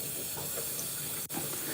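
A paint brush being rinsed under running water outdoors, a steady close hiss of flowing water with a brief break near the end, no talk.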